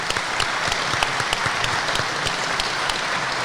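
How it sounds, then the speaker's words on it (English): Audience applause at a car showroom event, steady dense clapping from a crowd holding at an even level for a few seconds with no talking over it. "Everyone, give Andrew a lovely round of applause."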